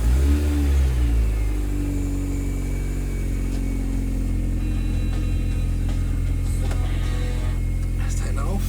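A Mini Cooper engine runs loud and rough close by, revving up and settling into a steady, throaty drone.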